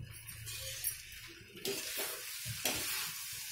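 A pan of chura matar (flattened rice with peas) being stirred, with a spoon scraping and mixing through the food over a soft sizzle in a quiet kitchen, with a few louder stirring strokes toward the end.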